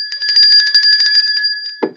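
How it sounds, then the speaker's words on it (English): A small bell rung rapidly near the microphone during a weather show game, a bright continuous trill of strikes lasting over a second before a brief thump ends it. "Ring the bell again, Joe."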